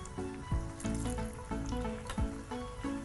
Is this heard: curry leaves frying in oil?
yes